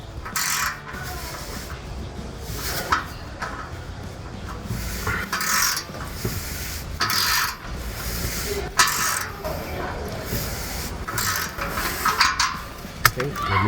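A ratchet tightens the clamp on an MBRP cat-back exhaust with carbon fiber tips, fitted to a 2015-2022 Dodge Challenger 3.6L. Close, bursty metallic clicking comes in repeated short runs over a low garage rumble, with a voice now and then.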